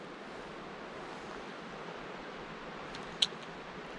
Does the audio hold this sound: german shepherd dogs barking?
no